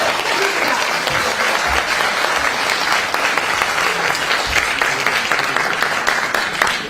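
A crowd applauds loudly and continuously at a political party election campaign launch rally in Seoul, with dense, sustained clapping throughout.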